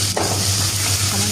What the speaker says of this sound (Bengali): উল্টে পাল্টে পেঁয়াজ দিয়ে তেলে ভেজে নেব।